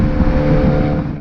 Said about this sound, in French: En mode sport, le moteur chambre.